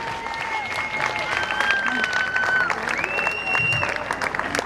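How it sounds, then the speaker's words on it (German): Scattered applause rises from a crowd for the police at an outdoor anti-measures demonstration in Vienna, moderate and diffuse, mixed with whistles and voices. "Großen Applaus"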